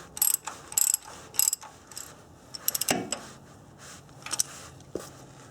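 A socket ratchet clicks in short bursts while tightening a new oil pressure sensor on a car engine, close and crisp with pauses between strokes and a few light metallic knocks.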